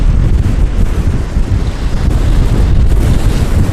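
Strong wind buffets the microphone at an ocean shore with foamy surf, a loud, continuous rumbling roar with gusty swells and no talking.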